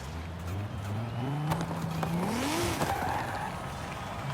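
Drag-tuned Toyota 86 launching in Forza Horizon 5, engine revving up through rising gears with tire squeal, loud and close with no talking.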